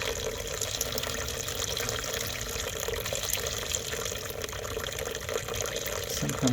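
Water running and splashing steadily over Omotesenke-style hearth ash as it is washed, a continuous near wash of liquid with no pauses.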